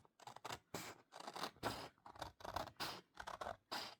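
Repeated crisp snips and slicing rasps of scissors cutting paper, close and quiet, in an irregular steady rhythm.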